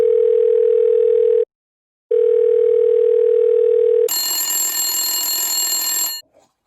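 A pretend telephone on a yarn line gives a steady electronic ring tone in two long bursts separated by a short gap, followed by a brighter, harsher ringing tone that runs for two seconds and then cuts out.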